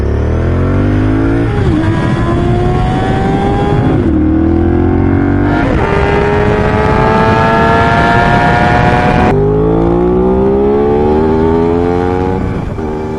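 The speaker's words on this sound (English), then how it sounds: "Shifting gears is an integral part of riding a motorbike." A loud Honda CB650R motorcycle engine revs up in rising sweeps, dropping in pitch at each gear change before climbing again, close and continuous.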